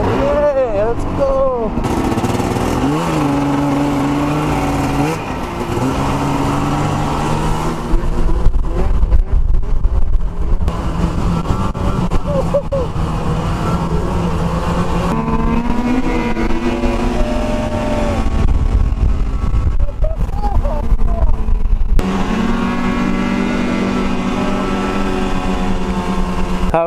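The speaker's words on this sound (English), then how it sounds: "Here is the Articat 500, and here is the insanely powerful Articat 800." Arctic Cat 500 and 800 snowmobiles driving in snow, engines droning and revving with rising and falling pitch close by, loud and continuous, with voices talking over them.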